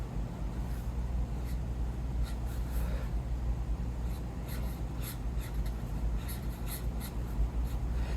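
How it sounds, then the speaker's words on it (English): A pencil or pen moves over paper while an eye is drawn, giving a steady, close, soft scratching with light strokes throughout, over a low constant background hum. "I'm drawing this one, the left eye."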